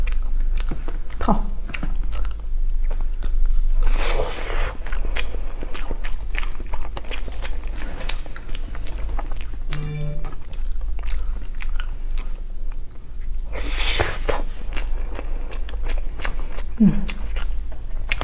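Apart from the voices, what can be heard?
biting and chewing filled sweet snacks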